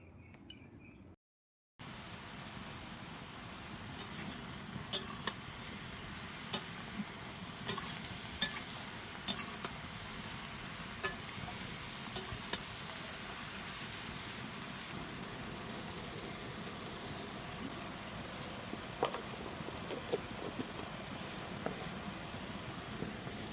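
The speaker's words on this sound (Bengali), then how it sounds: "এইভাবে নাড়াচাড়া করতে করতে কচু শাকটা রান্না করতে হবে।" Taro leaves (kochu shak) being stirred in a pan, a steady low sizzle running throughout with a run of sharp utensil ticks and scrapes against the pan near the start, easing off later.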